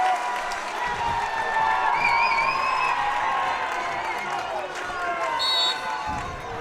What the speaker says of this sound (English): Pass it through and listen to the crowd.